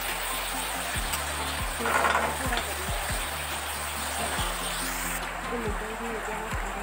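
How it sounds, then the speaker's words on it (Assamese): Bottle gourd leaves fry in a hot pan with a steady, even sizzle that runs throughout, backed by a low voice-like hum. "লাউৰ পাতখিনি অকণমানে ভাজিম, বেছি ভাজিব নালাগে"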